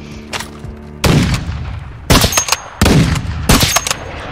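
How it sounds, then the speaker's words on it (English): AK rifle fire in the Warzone video game, loud close bursts of rapid shots in several separate volleys with sharp booming onsets and short gaps between them. "Hit with my AK from that far."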